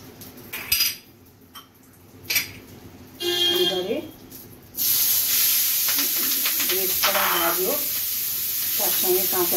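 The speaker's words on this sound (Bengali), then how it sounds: "তৈরি করার জন্য কড়াই খানিকটা গাওয়া ঘি দিলাম। দেওয়ার পরে 1 চিমটি হিং দিলাম। হিংটা একটু নেড়ে নিয়ে" A pinch of asafoetida sizzles and hisses in ghee in a wok, with a few utensil clinks and scraping stirs, then the sizzle grows into a loud, steady fry; someone talks over parts of it.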